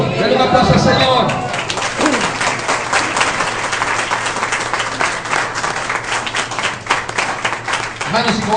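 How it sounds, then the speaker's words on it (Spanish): A church congregation claps together during a Spanish-language sermon, loud sustained applause with rhythmic slaps, while a voice speaks over the start and a few cheers and voices rise through the crowd. "Dale un aplauso al Señor."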